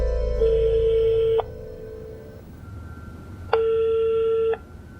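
A telephone rings during a call in a TV drama serial: two loud electronic ring bursts with a short pause between them, heard without talk over a low room hum.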